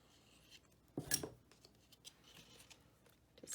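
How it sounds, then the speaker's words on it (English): Scissors angle-cutting paper corners for a crafted banner, one quick crisp snip followed by faint rustling, quiet and close. "I like to take my scissors, and I just like to angle cut these corners."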